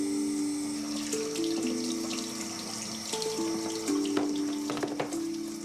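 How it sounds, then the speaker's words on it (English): Cool water runs from a household tap over a burned hand, a steady close rush of flow with a few faint clinks and movements around the sink, no talking. "let me run some cool water on it."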